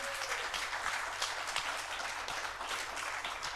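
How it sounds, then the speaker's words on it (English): Audience members applaud a planning committee at a community church event, producing a brief, even patter of clapping that fills the whole moment without a break. "let's give them a round of applause"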